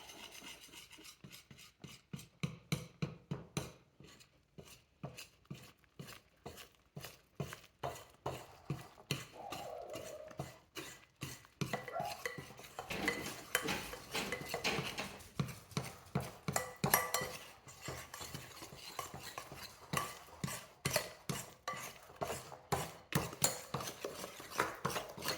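Sourdough bread mixture is beaten in a bowl, a steady, rapid rhythm of scraping, slapping strokes that repeats for a long stretch at moderate, close volume.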